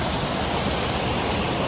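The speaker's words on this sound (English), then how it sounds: "we made it to the Seven Sisters Waterfall" Rushing water at Seven Sisters Waterfall (St. Margaret Falls) in Grenada, a steady broadband roar of falling water, close and loud, without a break or any voices.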